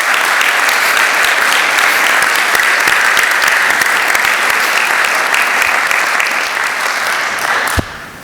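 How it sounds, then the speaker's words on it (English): Loud, sustained round of applause from a convocation ceremony crowd, dense and steady for several seconds before cutting off abruptly near the end. "Can we give Dr. Cook a round of applause?"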